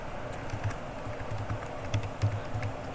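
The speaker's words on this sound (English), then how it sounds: "Let's type in Habakkuk here." Typing on a computer keyboard, a steady run of soft, close key clicks with a few louder taps, heard alone at low level.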